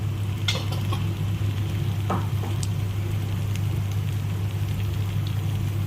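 Turmeric and other spices fry in hot oil for egg biryani, giving a steady close sizzle with a low, continuous hiss and a few faint stirring clinks, and no voices.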